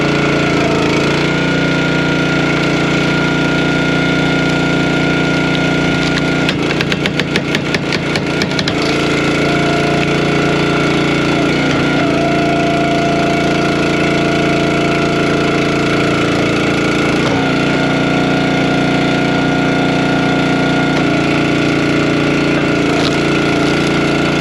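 Log splitter engine running steadily, a loud continuous mid-pitched drone with a brief rattling burst partway through and no talk over it.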